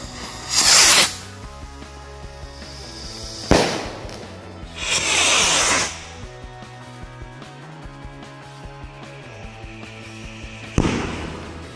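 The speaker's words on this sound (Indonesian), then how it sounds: "selanjutnya kita nyalain mercon Rocket King Jumbo" Rocket King Jumbo firecracker rockets launch and burst at night, with several loud whooshing, crackling explosions spaced a few seconds apart.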